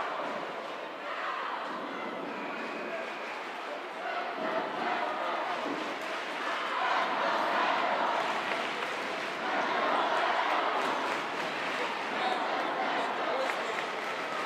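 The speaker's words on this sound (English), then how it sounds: "this crowd is deafening here" Crowd at a girls' basketball county championship, Central York vs Dallastown, a dense sustained roar of cheering with swells in volume, commentators talking over it.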